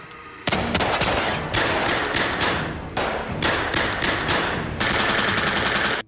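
Gunfire in a war film with American troops fighting German soldiers, loud rapid bursts of automatic fire cracking in quick succession, broken by short pauses, close and dense throughout.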